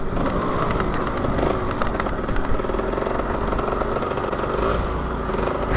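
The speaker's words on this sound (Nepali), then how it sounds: "धुलो उडाउँदै अफरोडमा हामी धुलो उडाउँदै दुईटा टु स्ट्रोक बाइक" Two two-stroke motorcycles, a Suzuki ER 185cc and a Honda MTX125R, ridden off-road on a dusty trail, their engines droning steadily and fairly loud, with no talk.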